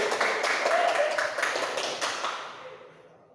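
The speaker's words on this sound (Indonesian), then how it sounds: "Tepuk tangan untuk guru. Tepuk tangan untuk Sri." A class of schoolchildren applauds their teacher, dense clapping that starts full and close, then gradually thins and fades over about three seconds.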